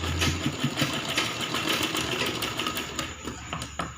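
A sewing machine stitches a frilled baby frock, giving a close, continuous whirring run of rapid stitching that slows slightly near the end.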